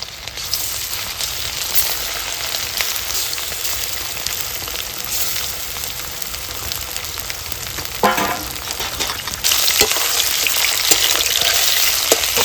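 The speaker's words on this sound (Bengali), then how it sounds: "গরম হয়ে গেছে পকোড়াগুলি আমি ভেজে নেবো" Pakoras frying in hot oil in a pan give a loud, dense, steady sizzle and crackle, briefly disturbed by stirring and growing slightly louder toward the end, with no speech.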